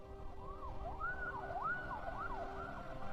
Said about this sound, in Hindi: दूर से सायरन की आवाज करीब आ रही है।